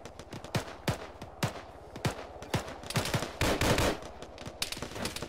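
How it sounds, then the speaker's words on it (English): Gunfire in the military video game Arma, a volley of sharp rifle shots with some rapid bursts, irregular and mostly close, a few sounding farther off, with a brief heavier cluster midway and no voices. "We're still taking a lot of fire from the west."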